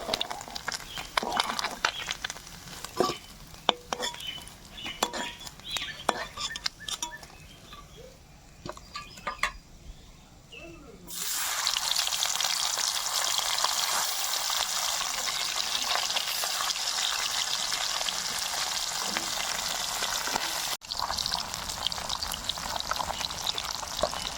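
Fish frying in oil in a karahi hisses and crackles steadily, quieter at first with scattered pops, then surging into a loud, continuous sizzle.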